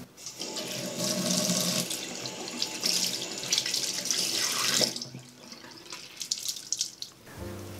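Warm water gushes from a bathroom sink tap in a close, steady stream that splashes into the basin, then thins to a few drips and trickles as the flow stops.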